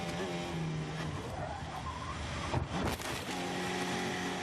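A Renault open-wheel racing car crashes into the tyre barrier at Raidillon, Spa-Francorchamps: a loud, continuous engine and tyre roar with a sharp burst of impact and skidding noise near the middle.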